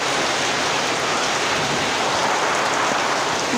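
Steady rain pouring down during a rainy spell before a puja festival, a dense continuous hiss of drops on surfaces, loud and close with no voices.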